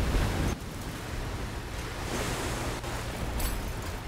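Ocean waves in the naval video game Age of Water, a steady loud wash of surf with wind-like noise running throughout, no voices.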